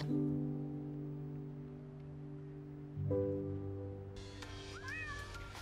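A cat meows repeatedly on a television show about cats, with drawn-out, wavering cries playing faintly in the room, the last ones rising and bending in pitch over a low steady background hum.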